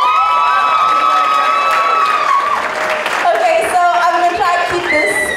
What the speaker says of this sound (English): please can we just clap for them quickly?